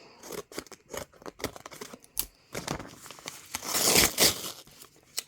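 A doll sculpt shipping box is cut open with scissors and torn apart, with close, irregular snips, rips and cardboard crinkles, and a louder burst of tearing near the end.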